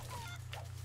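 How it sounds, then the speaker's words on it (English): Chicken in the pirate video game Sea of Thieves, a short faint cluck over a steady low hum, brief and alone. "Guys, a chicken!"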